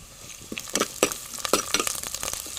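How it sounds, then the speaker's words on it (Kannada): Green chillies and ginger dropped into hot frying oil with onions, giving a crackling sizzle with irregular bursts and spoon clinks, close and moderately loud, with no voices. "ಈಗ ನಾನು ಇದಕ್ಕೆ ಕಾಯಿಮೆಣಸು ಹಾಗೂ ಶುಂಠಿಯನ್ನು ಹಾಕ್ತೇನೆ"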